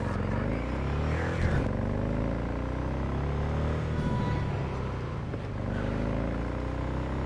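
Engine drone of a vehicle driven in the video game Cyberpunk 2077, a steady continuous hum with shifting pitch as the ride goes on, fairly loud and unbroken throughout.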